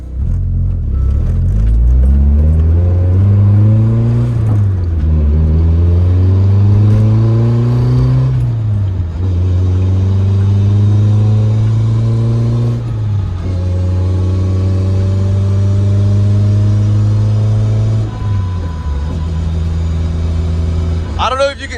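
A Nissan 240SX with a short throw shifter accelerating through several gears, the engine rising in pitch, dropping at each shift and climbing again, loud and close from inside the car.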